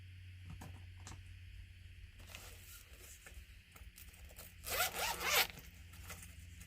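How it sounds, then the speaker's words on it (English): A pencil case is unzipped during a watercolour colouring session, giving a short, close zipper rasp of about half a second over a quiet room hum, preceded by a few faint clicks and rustles. "Just undoing my pencil case because I hadn't even done that."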